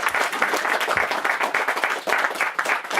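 Audience applause at a comedy show, a dense steady wash of clapping from a live crowd that carries loud and sustained through the whole stretch with only slight swells.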